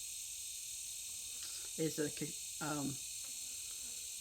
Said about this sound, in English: Cicadas? Is that what it is? July flies, June bugs.